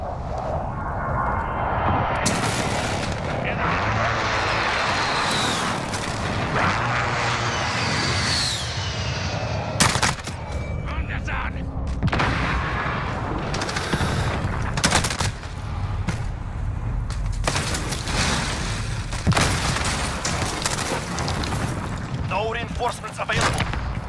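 Call of Duty Modern Warfare match on the Shoot House map: precision airstrike explosions boom amid rapid bursts of automatic gunfire and single shots, loud and dense, with sharp cracks recurring over about twenty seconds.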